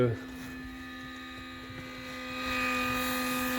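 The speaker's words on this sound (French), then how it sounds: "le ventilateur il fait vraiment un bruit" A small cooling fan of a cheap power inverter in a camper van whirs with a steady high-pitched whine and hum, rising slightly in pitch and loudness toward the end.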